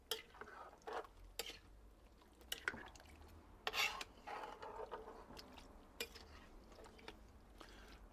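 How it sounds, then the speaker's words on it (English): Chili chorizo being stirred in a dutch pot at a campsite: quiet, irregular scrapes and knocks of a spoon against the pot with soft wet shuffling between them, close up and faint. "give it a bit of a stir"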